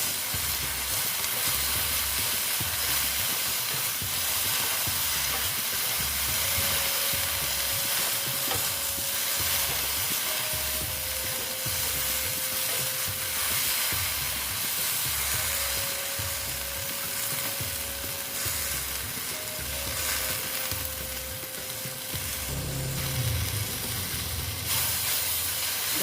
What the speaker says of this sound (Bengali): তারপর দিয়ে দিচ্ছি সামান্য হলুদ দিয়ে আমি ঢ্যাঁড়সটা একটু ভেজে নিচ্ছি